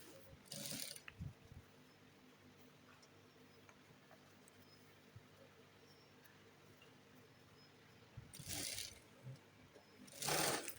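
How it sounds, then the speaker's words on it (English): A sewing machine whirs in short bursts near the start and end, separated by quiet ticking and soft handling noises. "I'm just going to take this to my sewing machine like so, and I'm just going to pleat this"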